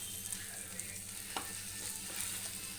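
Fish fries in oil in a pan with a steady, close sizzle and soft crackling throughout, with no voices.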